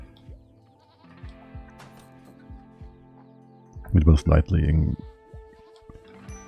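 Goats bleat in a swamp setting inside a video game, a loud burst of several quavering bleats midway, while someone talks quietly before and after.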